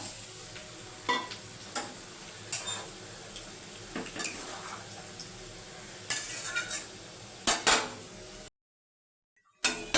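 Fish and pointed gourd added to a bubbling curry in a pot, a quiet simmering hiss broken by sharp metal spoon clinks and knocks against the pot at irregular intervals, ending in a short silence.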